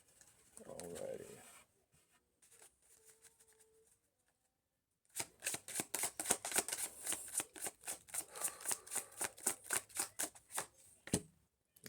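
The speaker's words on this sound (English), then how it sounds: "Let's see. One last shuffle." Oracle cards are shuffled in one quiet close burst of rapid, riffling flutters that speed up and then stop, after a soft stretch of handling noise at the start.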